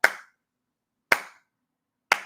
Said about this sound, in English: should I do the slow clap?